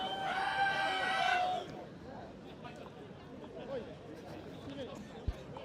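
Rugby fans at a sevens tournament chant in imitation of a rooster's crow, a loud sustained burst of voices for about a second and a half that then drops to a low crowd murmur.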